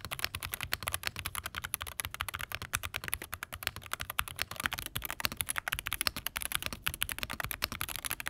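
Rapid, continuous typing on a Wooting 60HE+ keyboard fitted with a new spacebar module and stabilizers, a dense close-up patter of key clacks with deeper spacebar thocks mixed in, with no voices.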